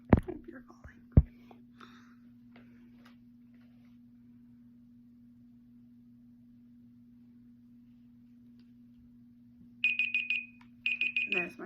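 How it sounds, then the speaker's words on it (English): A timer alarm goes off near the end, two bursts of rapid high electronic beeping separated by a short gap, loud and close after a quiet stretch with faint whispering and a steady hum. "There's my timer."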